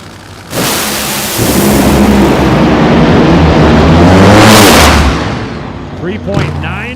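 A nitro funny car blasts down the ZMAX Dragway strip in a drag racing run, a loud, sustained engine roar that cuts off abruptly and fades away, followed by faint distant voices.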